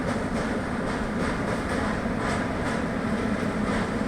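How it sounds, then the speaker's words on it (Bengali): A train crosses high over the No. 27 rail bridge in Jharkhand, a steady, loud rumble of rolling wagons with faint rhythmic clatter carrying on throughout. "ওই দেখো এই ট্রেন যাচ্ছে এখান থেকে"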